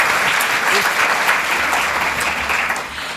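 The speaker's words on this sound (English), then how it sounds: "Round of applause, please, for Miles and Tawa." Steady, fairly loud applause from an audience at a talk on Māori financial wellbeing fills the space as a dense, even wash of clapping, easing only slightly by the end.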